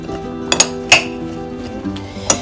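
Bruschetta topping of chopped tomato and red onion being mixed in a bowl, a few sharp utensil clinks and knocks against the dish over a soft background, close by.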